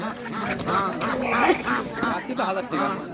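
Domestic ducks quack repeatedly at a rural village poultry market, close and fairly loud, mixed with people talking over them.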